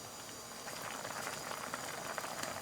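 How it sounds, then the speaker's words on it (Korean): A pork rib stew bubbling in a pot gives a steady, soft, close boil with dense small popping bubbles and no talk over it. "또 보글보글 끓을 때 당근을 넣고요"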